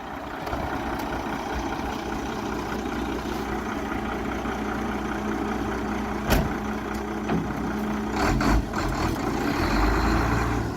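A 1995 Ford L8000 crane truck with an 8.3L Cummins diesel and air brakes rumbles steadily nearby as it moves forward and back, with a sharp air-brake hiss partway through and engine revving rising toward the end.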